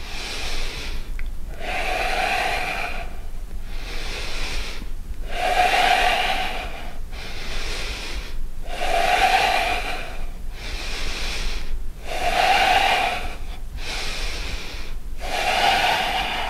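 Deep, rhythmic breathing during yoga wheel push-ups, with slow regular inhales and forceful exhales that rise and fall about every two seconds, close and loud, with no speech.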